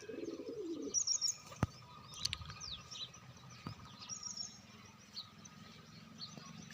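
Pigeons let out of their loft coo softly outdoors, low burbling calls near the start, then quieter scattered chirps, a few sharp knocks and faint background noise.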